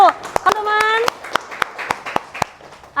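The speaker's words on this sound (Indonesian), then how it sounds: "Tepuk tangan dong, betul." A classroom group claps to celebrate the winning team, a run of sharp, close, irregular hand claps, with a voice and an adult's voice speaking over it.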